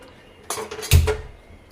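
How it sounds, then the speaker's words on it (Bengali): A metal kadai clanks as it is set down on a stove burner, a couple of sharp knocks followed by a heavier thump and brief ringing, close by and with no talking. "কড়াইটাকে গরম করার জন্য বসিয়ে দিচ্ছি"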